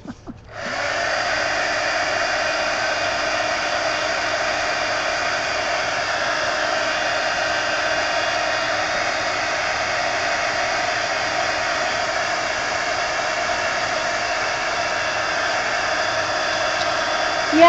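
A hair dryer blows steadily on an art journal page, clicking on and holding a loud, unbroken whooshing roar for the whole stretch with no speech.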